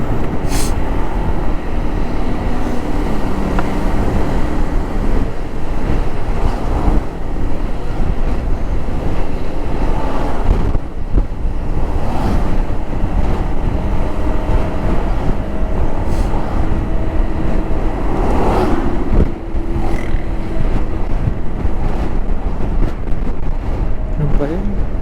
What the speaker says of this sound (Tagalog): Dagat, dagat.